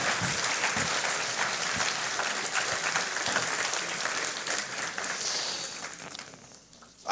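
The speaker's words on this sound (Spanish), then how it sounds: "Y darle un aplauso al Señor" A church congregation applauds during a sermon, sustained even clapping from a large crowd for about seven seconds, fading slightly at the end.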